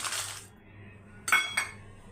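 Spices and lentils tipped into a pan for roasting flax seed podi, coriander seeds, cumin and dried red chillies, giving a soft rattling pour, then a pause and two sharp metallic clinks close by.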